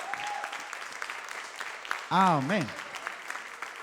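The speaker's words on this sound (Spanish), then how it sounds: "¿Cuántos creen que el Señor se merece un aplauso por eso?" Church congregation applauding, a dense wash of clapping through the clip with a voice calling out a word partway through.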